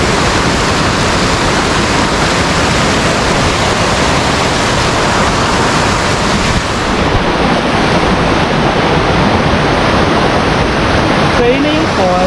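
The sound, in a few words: Tagbibinta Falls waterfall, Davao de Oro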